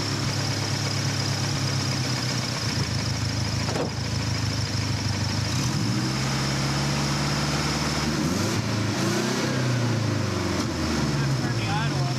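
A Subaru GL-10 with an EA82T turbo engine idles steadily close by, its low mechanical drone shifting in pitch as the revs are raised partway through, while people talk over it.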